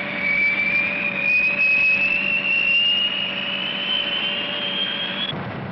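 A B-58 jet bomber's engines give a loud, steady roar topped by a high whine that slowly climbs in pitch, heard alone for several seconds.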